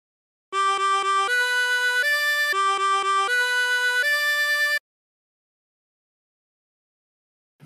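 A 24-hole tremolo harmonica plays a phrase of La Cucaracha, bright wavering sustained notes in a short stepping sequence, alone and close, then silence.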